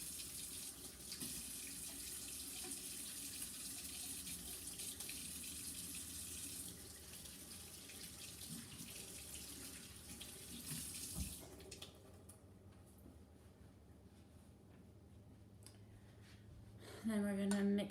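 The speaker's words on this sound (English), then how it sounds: "I'm gonna wash my hands now." Water runs steadily from a kitchen tap while hands are washed during pancake-making, a broad continuous hiss that thins out partway through, ending with a brief louder knock near the end.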